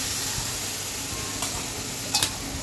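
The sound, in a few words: spice paste being stir-fried with a little water in a pan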